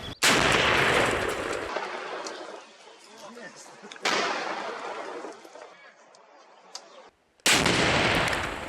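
Three loud sharp anti-tank weapon blasts, each with a long decaying rumble, spaced a few seconds apart with quiet between.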